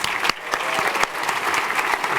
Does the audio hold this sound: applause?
yes